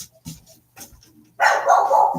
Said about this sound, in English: I fully expect the barking to commence.